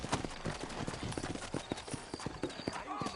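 Horse hooves clip-clop at a walking pace on a street in the video game Red Dead Redemption, steady close hoofbeats with brief voices speaking over them.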